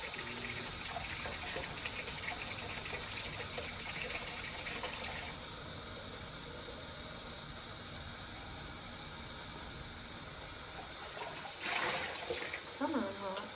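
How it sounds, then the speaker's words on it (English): Hot water runs steadily from a tap into plastic cups, a continuous broad gush with a brief louder splash near the end, and a voice speaks over it at times. "I'm gonna just run it under hot water."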